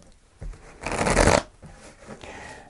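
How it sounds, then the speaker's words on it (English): A tarot deck is shuffled close by, a brief riffle rising into a dense fluttering burst, then a few soft taps as the cards settle. "I'll do one more shuffle."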